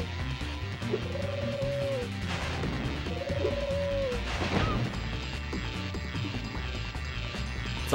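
Pigeons cooing in the video game Spyro 2: Ripto's Rage, two clear rising-falling coos heard over steady game ambience, with a thud and clatter midway and a busy background throughout.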